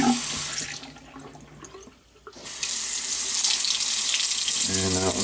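Water runs steadily from a Delta faucet after a leaky handle repair, a loud continuous rushing splash into the sink that drops away briefly and then returns at full flow, with no talking.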